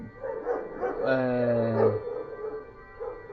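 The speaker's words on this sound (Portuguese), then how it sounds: "os cães estão latindo aí fora aí" Dogs barking outdoors, a short burst of several harmonic barks and yips, fairly distant and under a steady room ambience.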